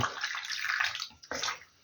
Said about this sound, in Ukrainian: Тепер я маю тут воду, трошечки тепла. І отак по картоплі полью.